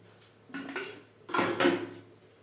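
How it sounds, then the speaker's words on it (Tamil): A pressure cooker is set down on the stove in two close metallic clunks and scrapes about a second apart, with no talk. "இப்போ அடுப்பை தச்சு குக்கர் வச்சுக்கலாம்"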